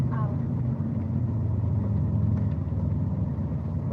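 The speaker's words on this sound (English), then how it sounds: "you always idle down a turbo car. So I'm gonna let it idle." A turbocharged car engine idles with a steady low rumble, close and even, with no revving, and a voice talks briefly at the start.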